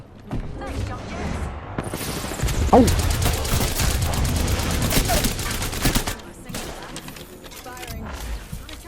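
Bursts of gunfire and explosive booms in Apex Legends rattle through a hectic firefight, with a person talking over the shooting.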